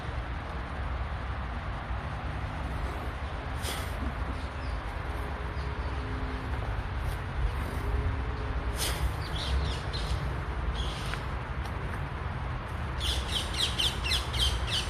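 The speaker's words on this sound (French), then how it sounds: "Les oiseaux" Birds calling along the Marne riverbank, with crow-like caws and chirps recurring at intervals over a steady low outdoor rumble, fairly distant and without voices.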